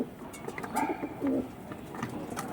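A deep-eyed pigeon at a bird seller's gives soft, throaty coos in a few short phrases, close and fairly faint over a quiet background hiss.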